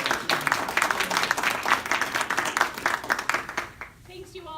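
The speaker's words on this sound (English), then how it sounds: "Please give some applause to Majority or Speaker of the House" Audience applause at a business and government affairs event featuring the Colorado House Speaker, a steady burst of many hands clapping for several seconds before tapering off, with some talk mixed in.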